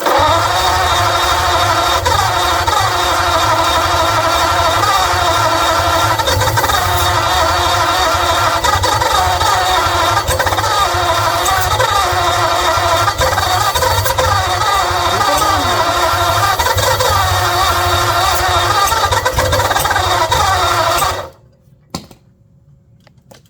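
A 1948 Ford Flathead engine with a flooded carburetor runs with a loud, steady, rumbling idle close by for about twenty seconds, then cuts out abruptly, leaving near silence and one faint knock.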